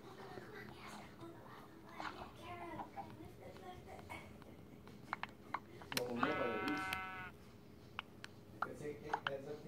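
A sheep bleats once in a clear, wavering cry at mid-distance, set against quiet whispering and faint rustling in an otherwise hushed space.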